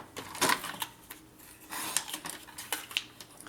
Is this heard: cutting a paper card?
yes